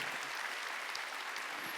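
A church congregation at a Sunday worship service breaks into applause: a steady, uniform patter of many hands clapping, moderately distant and filling the room, with no speech over it.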